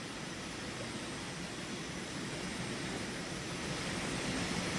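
Steady roaring jet engine of an F-4 Phantom spooling for takeoff on a runway in a flight simulator game, a broad continuous rush that builds slightly louder toward the end, with no talking.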